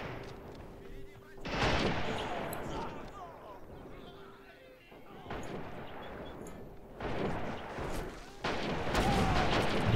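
Bursts of gunfire and heavy blasts from a T-60 tank fighting infantry in Men of War: Assault Squad 2, coming in dense waves under steady commentary.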